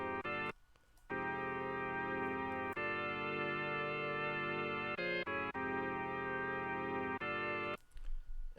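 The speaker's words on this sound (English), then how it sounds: "And right here you have an organ." A synthetic organ patch from the Nexus synthesizer plugin plays sustained chords with a bright, buzzy, harmonically rich tone. The chords change in steady blocks with brief gaps between them, heard alone and quietly.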